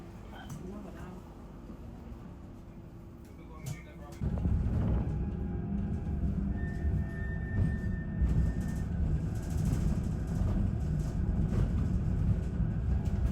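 A Northern train at a Manchester station, a loud low rumble that starts suddenly and continues as the train runs past close by, with faint voices in the background.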